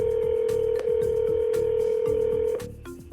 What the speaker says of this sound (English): we got some ringing